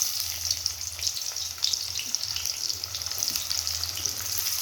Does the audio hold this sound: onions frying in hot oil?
yes